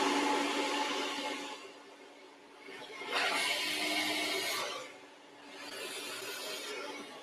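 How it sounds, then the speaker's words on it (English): A blow dryer works through natural hair during a Dominican blowout in a salon, a close, steady breathy roar that swells and dips as the dryer follows the brush, with no talk. "So the blow dryer pretty much just follows the brush."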